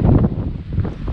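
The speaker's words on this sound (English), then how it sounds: "the wind is picking up" Gusty wind on an island buffets the microphone, a loud, continuous low rumble with no speech.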